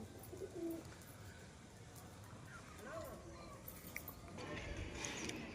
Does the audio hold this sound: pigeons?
yes